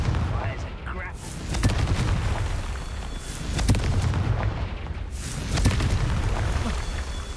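Repeated magical blasting-spell explosions from Hogwarts Legacy, several loud broadband booms and bursts recurring every second or two amid continuous battle noise.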